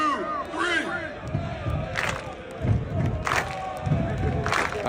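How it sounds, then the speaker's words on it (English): A crowd in the bleachers of a stadium roars and cheers in loud, rhythmic waves, with chant-like swells rising and falling every second or so under a noisy, reverberant space. "We want the whole crowd rocking."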